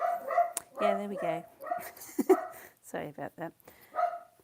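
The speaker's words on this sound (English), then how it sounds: "He's telling off the next door neighbour's dog." Someone speaks while a dog yips and barks in short bursts, fairly close, mixed in with the talking.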